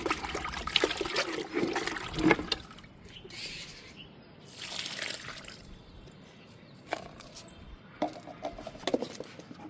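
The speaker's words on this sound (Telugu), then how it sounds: "ఇంకా పోసేస్తున్నా అండి మొత్తం." Homemade liquid fertilizer is poured onto a lemon plant in a pot, making a close trickling and splashing sound in uneven bursts with short pauses between pours.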